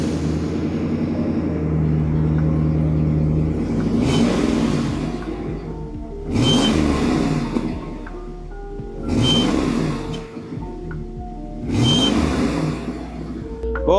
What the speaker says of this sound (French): est-ce que tu entends ce petit son de V8 hein?